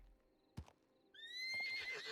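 A horse in Red Dead Redemption 2 on the WildRP server gives one sharp snort, then a loud rising whinny that wavers and trails off, with a few hoof clops beneath.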